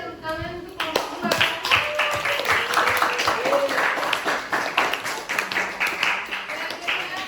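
Classroom of students clapping for a group after a brief spoken line, a rhythmic, fairly loud round of many hands with distinct claps, continuing for several seconds.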